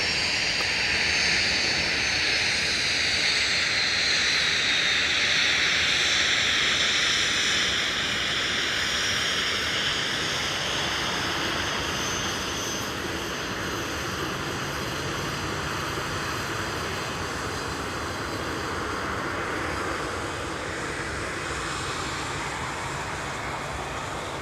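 Airliners taxi on a snowy taxiway at MSP airport, about 300 feet away. Their jet engines give a loud, steady roar that slowly shifts in pitch as each one passes.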